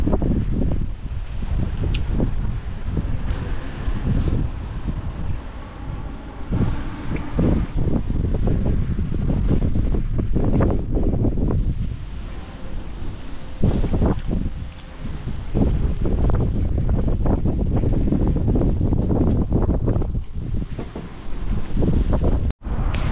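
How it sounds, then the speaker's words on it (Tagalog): Strong wind buffets a microphone at a city bus stop, a dense, continuous roar with gusty swells and rustling for over twenty seconds, with no talk. "Malakas ang hangin."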